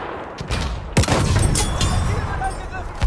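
Dense game gunfire from a video game battle, a sustained fusillade with a sharp burst near the one-second mark, while a voice talks briefly amid the shooting.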